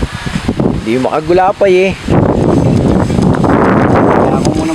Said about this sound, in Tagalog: Kaso talagang lintik ang hangin, ah.